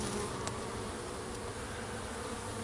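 Honey bees swarm around Langstroth or top-bar hives, making a dense, continuous buzzing drone that fills the air, loud and steady with no voices.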